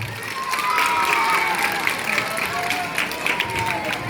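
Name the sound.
audience applause and cheering at quiz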